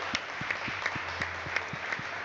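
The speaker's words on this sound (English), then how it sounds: "A round of applause for Rachel" Audience applause at a live quiz-style event, a steady patter of many hands clapping at moderate distance, continuous and fairly even with no voices over it.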